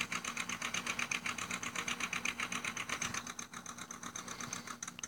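A tractor engine runs in a tractor pulling video game, a rhythmic, fast-pulsing mechanical chug that holds steady and fairly loud, then eases slightly toward the end.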